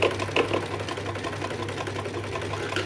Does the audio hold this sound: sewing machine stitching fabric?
yes